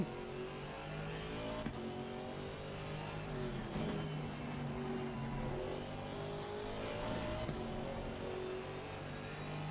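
A GT4 race car in Assetto Corsa Competizione lapping Brands Hatch under power, its engine droning and rising and falling through gear changes, loud and close throughout with light tyre noise and no talking.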